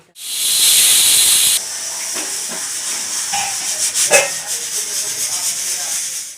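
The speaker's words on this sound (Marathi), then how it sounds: "बाहेर इतका पाऊस आहे ना खूप पाऊस चालू आहे" Steady broadband hiss of heavy rain, loud and close, continuing throughout with faint background voices and thumps under it.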